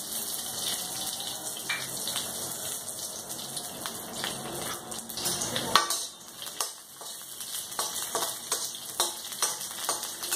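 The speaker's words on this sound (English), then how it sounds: "I'll lightly fry the green chilies." Green chilies lightly frying in a tablespoon of oil in a round-bottom pan for a spicy Maharashtrian chutney, a steady soft hiss and crackle with scattered sharp pops, continuous throughout.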